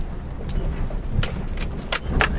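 Brakes on a Chevy Colorado ZR2 pickup driving on a dirt road give a few short metallic rattles and squeaks over a low rumbling engine and road noise, with no speech.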